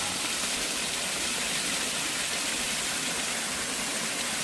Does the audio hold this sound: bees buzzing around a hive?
no